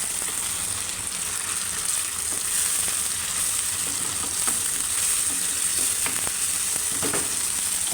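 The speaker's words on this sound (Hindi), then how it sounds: "बस इन टमाटरों को 1 से 2 मिनट तक भूनूंगी" Tomatoes frying in a pan with browned onion and ginger-garlic paste, a steady close sizzle with occasional stirring scrapes throughout.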